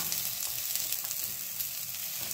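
Chopped onion frying in a pan with broccoli and capsicum gives a close, steady sizzle with soft stirring, a brief continuous crackle with no talking.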